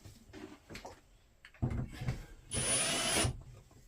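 A power drill in reverse backs a screw out of a boat's portlight, with short handling clicks and knocks before one loud steady whirring burst of under a second near the end.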